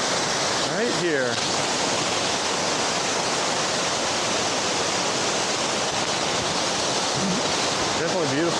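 Rushing water from a waterfall fills the scene with a constant loud hiss, close and unbroken, while a person speaks briefly over it near the start and again at the end.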